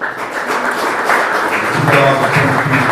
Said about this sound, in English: give a big round of applause for my dear friend, Eric Tesoro